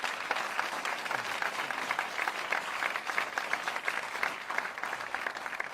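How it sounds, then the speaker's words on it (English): A crowd claps steadily and continuously, a dense patter of applause at a moderate level without pause. "We should clap for that."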